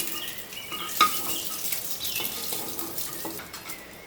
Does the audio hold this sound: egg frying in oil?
yes